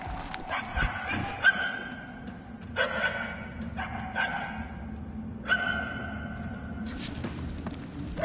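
A dog barks and yips in the Guardians of the Galaxy video game, intermittent faint calls echoing through halls over a low ambient drone, while characters talk in short bursts.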